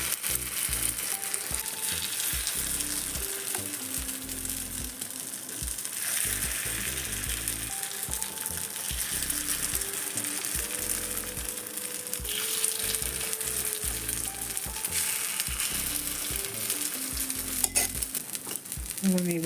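Carrot kuzhi paniyaram batter sizzles in a hot paniyaram pan, a dense continuous frying hiss with scattered clinks and scrapes of a spoon or pan throughout.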